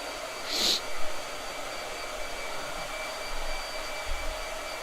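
A hair dryer blows with a steady whooshing hum, close and continuous, with a brief sharp hiss near the start.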